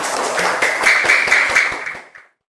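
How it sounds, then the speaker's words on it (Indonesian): A classroom of students claps together, a close burst of fast, loud hand claps that holds for about two seconds and then stops abruptly into silence. "Tepuk tangan untuk kita semua."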